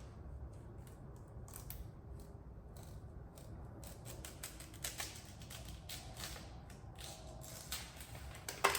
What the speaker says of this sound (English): Start to peel up a little bit.